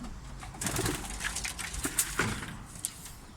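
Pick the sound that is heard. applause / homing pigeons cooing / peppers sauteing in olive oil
homing pigeons cooing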